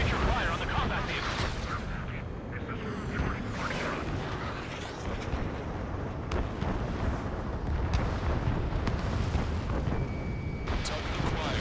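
Missiles launch and heavy gunfire rumbles in the Ace Combat 7 air combat game, a dense, loud barrage of blasts and roaring engines continuing throughout, with radio voices talking over it.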